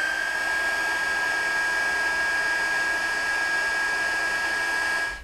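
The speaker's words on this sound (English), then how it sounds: "taking our handy dandy heat tool and doing one of my favorite things," A handheld heat tool blows hot air to melt white embossing powder on a card. It gives a steady, loud hiss with a thin high whine, unbroken for about five seconds until it cuts off at the end.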